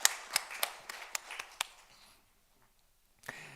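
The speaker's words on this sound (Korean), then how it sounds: "하나님께 영광의 박수를 드리겠습니다" A church congregation claps in a quick burst of sharp, scattered hand claps that fade after about a second and a half, followed by near silence and a brief final sound.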